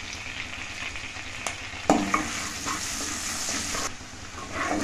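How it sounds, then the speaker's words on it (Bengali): Chopped garlic and ginger sizzle in hot oil for a vegetable soup, a steady close frying hiss broken by a couple of sharp spatula scrapes and stirs. "তেলের মধ্যে আমি দিয়ে দিচ্ছি রসুন কুচানোটা আর আদা কুচানোটা, রসুন আর আদাটাকে আমি নেড়ে নেবো।"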